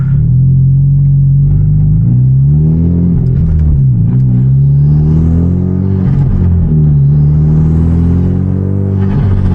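A manual Hyundai Genesis Coupe's engine drones and rises steadily as it accelerates through a tunnel, with harmonic tones sweeping up and down and faint exhaust crackles and pops throughout; loud and close, no voices.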